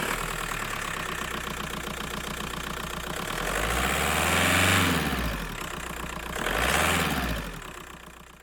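A Skoda Fabia Mk1 1.9 PD diesel engine idles with a steady, rough clatter, then is revved twice in quick succession, each rev rising and falling loudly from nearby, with no talk.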